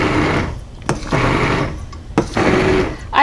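A blender pulses a chunky peach and red pepper BBQ sauce in short roaring bursts, with several distinct whirs separated by brief drops in noise.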